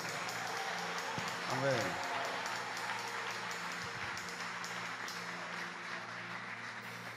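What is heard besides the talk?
audience applause at church youth conference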